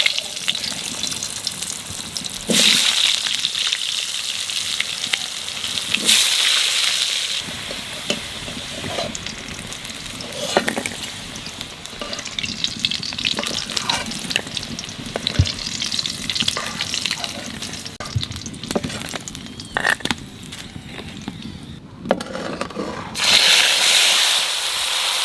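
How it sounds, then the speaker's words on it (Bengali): Potatoes and eggplant frying in hot oil left over from frying fish, a dense, continuous sizzle with occasional louder bursts and stirring, close and sustained throughout. "তো এই মাছ ভাজা তেলের মধ্যে আলু আর বেগুন ভাজিয়ে নেবো"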